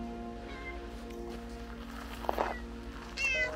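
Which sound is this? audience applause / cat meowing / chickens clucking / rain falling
cat meowing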